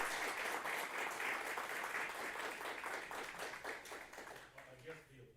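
Applause fills a room after a mayor's retirement announcement in Beaumont, dense and sustained for several seconds, then thinning to scattered claps and a few murmuring voices near the end.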